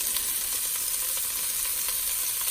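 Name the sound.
carrots sizzling as they go into the hot pot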